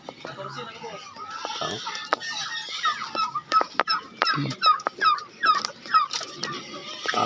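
Turkeys raised in the countryside for a December roast gobble and cluck in quick, repeated bursts, fairly close, with other fowl calls mixed in and voices faintly among them.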